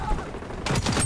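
Gunfire in the first-person shooter XDefiant, a burst of rapid loud shots breaking in after a quieter stretch.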